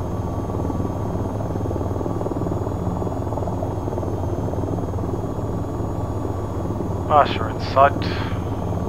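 AH-94 attack helicopter in VTOL VR taxiing back to parking after landing at Akatan, a steady engine and rotor drone running throughout, with brief radio voice chatter near the end.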